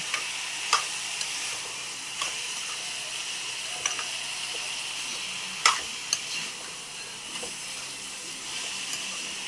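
Egg tomato curry is stirred in a pan, a steady soft sizzle broken by intermittent scraping clicks of a spoon against the pan, close and alone without talk.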